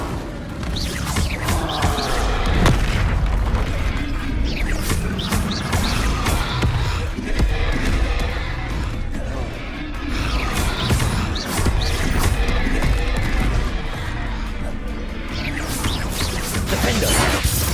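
Spell combat in the video game Hogwarts Legacy, with Incendio and Confringo fire and blast spells cast one after another. Dense, loud crashes, whooshes and impacts pile up continuously over game music and effects.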